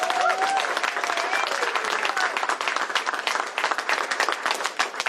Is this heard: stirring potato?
no